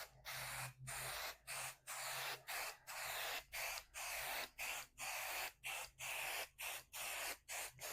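Basting adhesive sprays from a can nozzle held close over a quilt. Short hissing bursts repeat in a regular rhythm, each about half a second long with brief gaps between them, close and clear with no voices.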